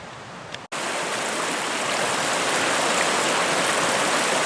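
Mitchell River rushing beside a backcountry trail, a loud, steady broadband roar of clear water flowing over rocks, constant and close, with a brief thump near the start and no talk.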